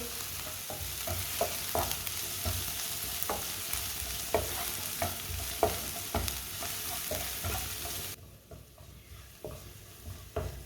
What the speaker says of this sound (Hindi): धनिया और ज़ीरे को भी रोस्ट कर लेंगे। थोड़ा सा भून लेंगे।